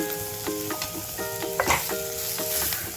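Bitter gourd with jaggery and chili sizzles in a pan while a spoon stirs it in a series of quick, loud scraping strokes over a steady frying hiss.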